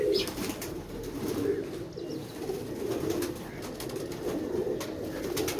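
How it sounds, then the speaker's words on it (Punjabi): A red-eyed female pigeon coos softly in a low, steady murmur that runs through the whole stretch, mixed with faint rustling and bird noise. "ਲਾਲ ਅੱਖ ਦੀ ਕਬੂਤਰੀ"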